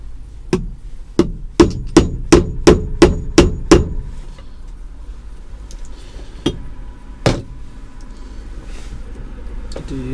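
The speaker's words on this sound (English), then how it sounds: "I'm going to be doing this the professional way, using a chisel and a hammer." A hammer strikes a chisel in a quick run of eight sharp, loud blows, then two more isolated strikes after a pause, all close and clear while working on a vehicle's electrical setup.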